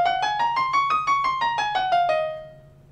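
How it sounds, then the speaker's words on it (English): A musical scale in Dorian mode, with a raised sixth, played as clear, evenly spaced sustained tones that climb and then descend, about a dozen notes in steady rhythm, the last ringing out alone. "So Dorian mode sounds like this."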